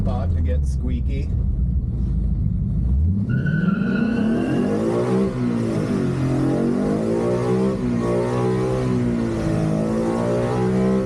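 A Ford F100 pickup with a swapped Coyote 5.0 V8 revs hard, its engine note climbing and pulsing while the tires squeal loudly for several seconds, close and dominant throughout.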